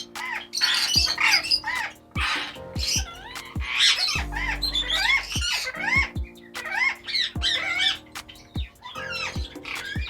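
Ring-necked parakeet breeder pairs squawking loudly and repeatedly, harsh rising calls coming in quick overlapping bursts close by, with a low steady hum underneath.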